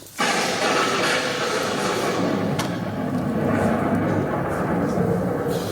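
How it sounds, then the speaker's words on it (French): A deep, sustained rumble of thunder fills the clip, loud and continuous, with a brief sharper crack partway through. "Ah, le tonnerre, il y a un sacré coup."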